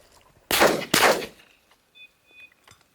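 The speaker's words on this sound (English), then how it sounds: "Good shot, Jim." Two loud shotgun blasts about half a second apart crack out while hunting sharptail grouse in open country, each with a short echoing tail, followed by faint bird chirps.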